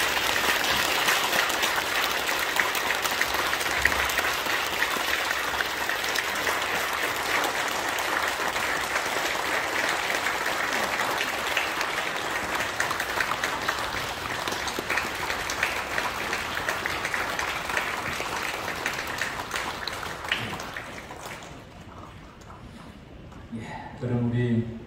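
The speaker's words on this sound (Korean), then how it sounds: "이 시간 성의 차기할 때 여러분 다 같이 박수로서 환영해 주시면 감사하겠습니다" Congregation in a church applauding during an ordination service for elders and deacons, long steady clapping from many hands that carries on for about twenty seconds, then stops abruptly into quieter room sound and a brief voice.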